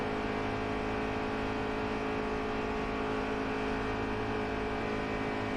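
Race truck engines revving in NASCAR Heat 3: a continuous, loud, high-pitched engine whine with steady harmonic tones, sustained without breaks and without voices.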